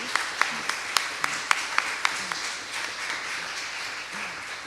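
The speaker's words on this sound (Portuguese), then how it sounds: "Vamos aplaudir." A small group claps in steady applause, a bit uneven and moderately loud, with some murmured voices underneath.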